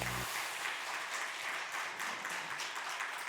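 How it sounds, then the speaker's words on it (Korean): A congregation applauds during a Sunday worship service at Sangwon First Church, a sustained, even wash of many hands clapping in a large room, with no speech over it. "이 모든 일을 행하신 주님께 영광의 박수 올리겠습니다"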